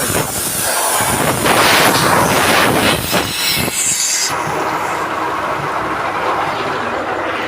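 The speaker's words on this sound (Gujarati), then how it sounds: "હવે ચાલી વાપરેટર ચાલુ કરવા વાઇબ્રેટર મશીન ચાલુ થઈ ગયું છે" A vibrator machine running during ceramic slip casting, a loud, continuous rumbling drone with rattling bursts, close up and without talk, its upper hiss dropping away partway through.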